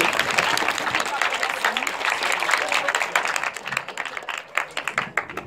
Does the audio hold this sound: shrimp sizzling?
no